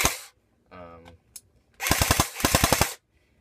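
A full metal airsoft rifle fires two quick bursts of several sharp shots each, with a springy mechanical twang between them, close to the microphone. A short voiced sound comes just before the bursts.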